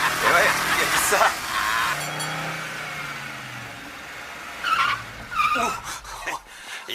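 An American car skidding under braking with slightly loose brakes, tires squealing and engine surging up close, with voices talking over the noise at the start and end.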